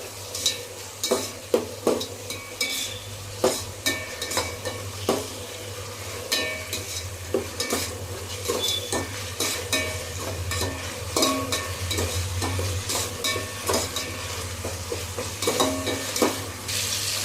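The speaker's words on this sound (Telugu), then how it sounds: "ఆనియన్ మగ్గింది టమాటా వేసుకోవాలి వేసుకొని బాగా కలుపుకోవాలి టమాటా మగ్గనివ్వాలి" Onion and tomato frying in a pan for chicken biryani, stirred with a utensil: steady sizzle under repeated scraping, clinking stirs that come close and fairly loud, with no talk.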